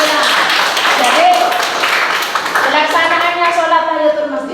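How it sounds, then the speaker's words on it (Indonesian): Children in a class clap their hands together in a brief burst of applause, mixed with voices, before an adult starts talking. "Bagus, tepuk tangan untuk kita"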